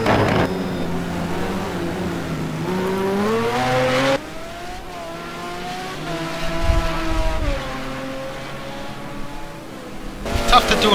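GT2 race car engines in a racing video game at Suzuka through 130R, a loud, high engine whine rising and falling in pitch with gear changes, and a second car cutting in, under a commentator's talk.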